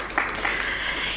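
Brief applause from an audience at a business forum on small enterprises, a soft steady patter of clapping heard from a distance.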